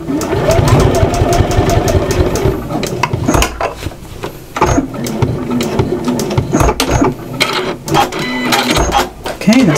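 A sewing machine top stitching the straps of a fabric apron runs in close, busy bursts with brief pauses between passes, its mechanical whir sitting under and between a speaking voice.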